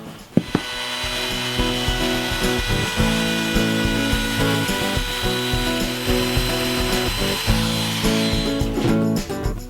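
A power router whines loudly and steadily as it cuts through scrap wood, close by and continuous, with a few brief knocks near the start.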